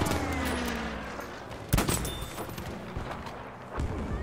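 Gunfire in Battlefield V during sniper play: a sharp close shot cracks out amid scattered distant bursts and rattling automatic fire, with a second shot later and a low rumble underneath.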